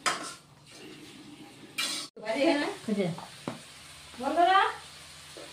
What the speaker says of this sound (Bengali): তারপর বন্ধুরা ভেজে রাখা বটবটিটাও দিয়ে দিচ্ছি, দিয়ে এবার মশলাটা দিয়ে আবার একটু কষিয়ে নিব